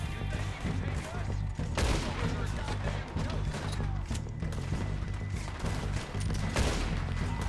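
Repeated gunfire from a Red Dead Redemption 2 firefight, with several loud broadband shots and bursts over a steady low game rumble and music, including sharp reports near two and six and a half seconds.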